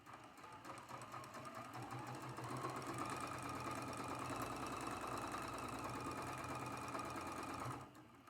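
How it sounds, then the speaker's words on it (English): A sewing machine runs steadily for about eight seconds, stitching a seam on a spool quilt block, with a dense mechanical whir and rapid needle rhythm before it stops near the end. "Flip it down and sew it."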